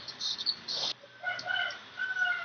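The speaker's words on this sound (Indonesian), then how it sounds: "Wih, ada ayam." A rooster crows in the background, loud, drawn-out calls repeating over a faint insect-like buzz, with no talking at that moment.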